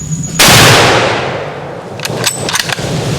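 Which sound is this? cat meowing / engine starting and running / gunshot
gunshot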